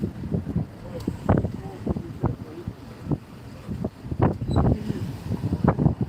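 Strong wind buffets the microphone on a seaside pier, producing irregular low rumbling gusts that swell and fade close by, with faint speech-like sounds under the wind.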